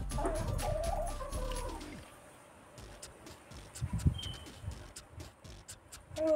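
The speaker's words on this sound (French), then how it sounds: "c'est une vieille poule" An old hen clucks up close, with a run of throaty clucks at the start and scattered softer clucks and rustling after that, in a quiet outdoor setting.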